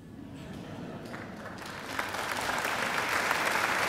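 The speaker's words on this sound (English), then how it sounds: "And I think Barry deserves another great round of applause too." Audience applause at a university graduation ceremony, a steady crowd clapping that swells louder about halfway through and keeps building, sustained dense claps with no talk over it.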